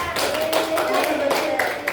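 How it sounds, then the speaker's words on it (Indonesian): Classroom students clapping for a classmate during a microteaching session, steady clapping throughout the short moment with a voice speaking over it. "Tepuk tangan buat Eva"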